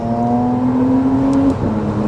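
A McLaren Artura Spider hybrid supercar accelerates, its engine giving a steady rising drone that is loud and close, then briefly dips as if shifting gear before climbing again.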